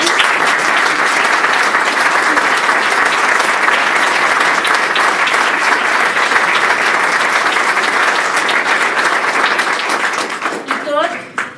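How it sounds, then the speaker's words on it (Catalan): Loud, sustained applause from an audience at an art exhibition about 1 October in Reus, dense clapping continuing for about ten seconds before tapering off. "jo els agrairia també un fort aplaudiment"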